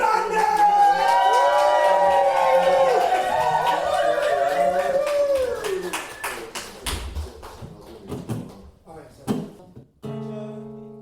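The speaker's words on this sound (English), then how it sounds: "Please, make some noise for Millie Manders!" Crowd at a punk festival in Manchester whooping and cheering with some clapping, loud at first, then thinning into scattered claps and shouts before a brief spoken line.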